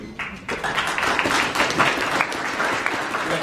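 Steady applause from an audience fills a public hearing room, a dense wash of many hands clapping at even loudness throughout, with no voices over it.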